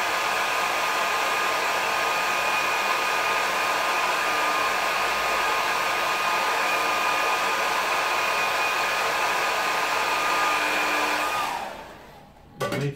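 A hair dryer blows steadily and loudly to dry a watercolour painting of a big sky with a yacht, running alone for about twelve seconds before cutting off near the end.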